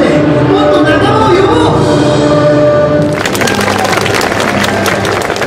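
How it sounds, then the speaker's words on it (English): Visitors clap their hands at an interactive projection display to make the images change; a broadband clatter of many hands swells in after a quieter stretch and holds steady to the end. "When visitors clap their hands, the images change."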